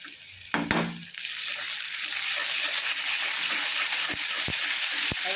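Ginger paste sautéing in a pan for chicken curry, a steady close hiss of frying with a brief clatter at the start and a few sharp taps later.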